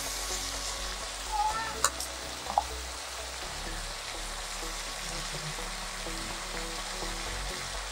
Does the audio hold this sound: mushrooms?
yes